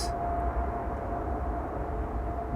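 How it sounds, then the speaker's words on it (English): A Turkish Airlines Airbus A330 arrives at Schiphol Airport with a steady, distant jet rumble and a faint sustained engine tone, continuous and without voices. "Turkish A330 is arriving from Istanbul."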